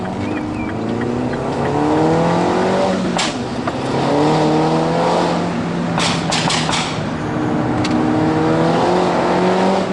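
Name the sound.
sports car accelerating, front wheels losing grip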